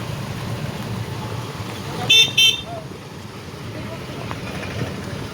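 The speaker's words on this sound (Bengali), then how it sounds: "সকাল সকাল আসার পর রাস্তা কি জাম" Traffic jam on a morning road, with a steady rumble of idling engines and two quick, loud car horn blasts in the middle, over a busy street background.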